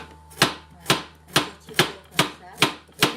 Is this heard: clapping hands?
no